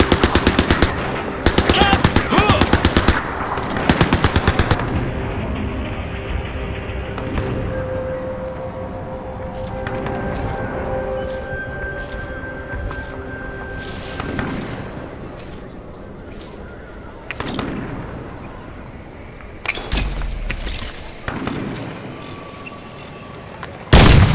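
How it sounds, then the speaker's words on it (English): Automated turret fire in the video game Crysis 3: loud rapid machine-gun bursts open the scene, then rumbling and clattering combat noise, with fresh heavy bursts of gunfire near the end. "The fucking turret is targeting us!"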